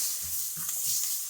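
Pea pods stirred into a sizzling beef stir fry in a hot pan, a steady soft sizzle with a few light scraping stir strokes, close and moderately quiet.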